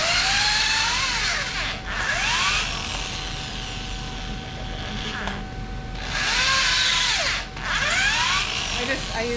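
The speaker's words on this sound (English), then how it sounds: "I'm pre-drilling my holes here" A power drill pre-drills holes in tree branches being made into parrot perches, its whining motor rising and falling in repeated bursts close by, with short pauses between runs.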